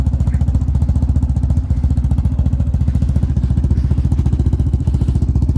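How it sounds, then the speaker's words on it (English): A 2012 Can-Am Outlander 800 XMR ATV with a loud aftermarket muffler, idling close by with a steady, fast, pulsing exhaust throb and slight clatter, no talking. "That's quite the muffler on that too, eh?"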